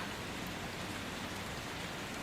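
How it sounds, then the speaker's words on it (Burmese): Steady rain falling, a dense even hiss of drops on a surface with no pauses or other sounds. "မိုးရွာတော့မယ်နော်"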